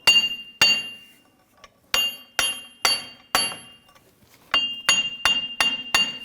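Sharp metallic hammer blows ring out one at a time and then in quicker runs, driving a wheel hub out of a Jeep Grand Cherokee steering knuckle, each strike clanging with a bright, ringing decay.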